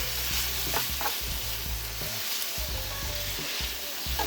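Something sautés in a pan with a continuous close sizzle, broken by repeated stirring scrapes and knocks that come in an uneven rhythm.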